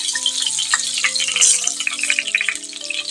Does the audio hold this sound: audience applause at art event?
no